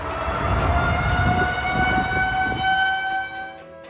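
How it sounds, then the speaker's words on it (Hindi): A tornado warning siren wails during a storm in the USA, a loud sustained tone holding steady for several seconds before trailing off, heard alone. "थोड़ी ही देर बाद अमेरिका के इस इलाके में तूफानी बवंडर का सायरन बजने लगता है।"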